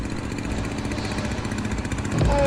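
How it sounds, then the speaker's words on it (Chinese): A tractor engine runs steadily nearby, a dense, continuous low mechanical rumble with a slight rise in loudness toward the end. "起猛了，看到警车给拖拉机开的"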